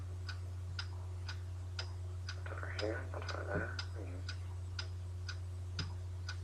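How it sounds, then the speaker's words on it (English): A mysterious ticking noise from a puppet show keeps an even beat of sharp ticks, about two per second, while a voice speaks briefly over a low steady hum. "What is that mysterious ticking noise?"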